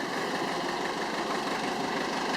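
An engine runs steadily just after starting, a dense, constant idling rumble with faint knocking vibration, close and loud with no pauses or voices.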